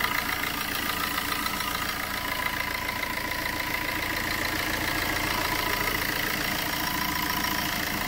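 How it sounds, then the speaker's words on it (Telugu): A 2019 Tata Zest XE taxi's engine idles steadily nearby, a quiet even hum with a faint mechanical ticking running unchanged throughout. "ఇప్పుడు ఇంజన్ అయితే ఆన్లో ఉంది."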